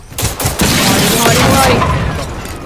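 Enemy gunfire in Generation Zero roars as a loud, dense, continuous barrage of shots aimed at the player, close and heavy.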